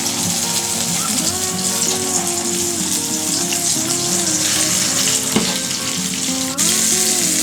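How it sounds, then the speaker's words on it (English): Dover sole dusted in seasoned flour with salt and pepper sizzles steadily in a hot pan, a close, continuous frying hiss over faint tonal background music, with one brief clack near the end. "then I stick it in a nice hot pan"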